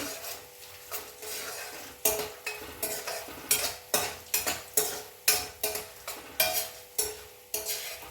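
Crackling and spitting of tempering spices and lentils frying in a pan, with repeated scraping stirs and metal clinks in an irregular rhythm, close by.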